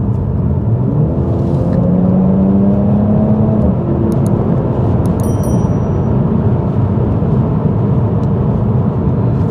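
Car driving with an ASR exhaust sound module on and the exhaust valves fully open, a loud steady low engine rumble and road roar heard from inside, with a brief rising drone as revs climb early on.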